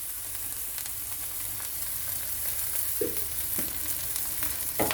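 Eggplant frying in oil in a pan, a soft continuous sizzle with a few brief crackles and stirring clicks.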